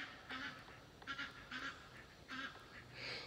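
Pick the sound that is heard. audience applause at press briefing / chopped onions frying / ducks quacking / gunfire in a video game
ducks quacking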